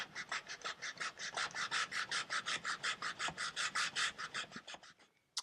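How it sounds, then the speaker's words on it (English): Wood hand-sanded with 220 grit sandpaper on furniture stretcher and rail parts, a steady run of about two dozen quick, even rasping strokes, close and moderately loud, with no talking. "I can just come in with the 220 grit."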